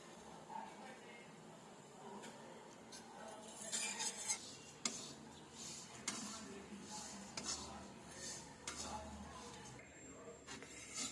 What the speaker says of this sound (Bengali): জিরে ভাজা হবে।